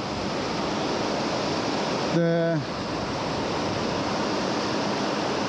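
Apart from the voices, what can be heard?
glacier river flowing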